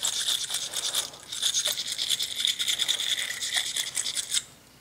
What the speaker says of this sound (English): even though this is a brush for a 1/2 inch, it should still work pretty much the same, but we're just gonna scour up, kind of clean up